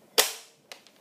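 A Nerf Deploy CS-6 blaster being loaded with Elite darts, one sharp close snap followed by two fainter clicks a moment later.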